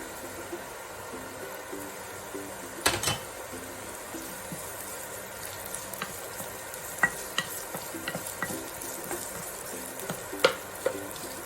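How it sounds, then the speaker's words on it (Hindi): Onions fry in a pan for vegetable spring roll filling, with a soft continuous sizzle, occasional sharp clicks and scrapes of stirring, close and quiet, with no talk. "ऑनियन डाल के इसे थोड़ी देर भून लेंगे।"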